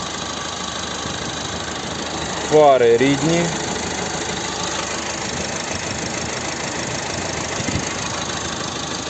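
A 2018 Opel Astra K 1.6 diesel engine idles in a steady, even hum, and someone speaks briefly over it.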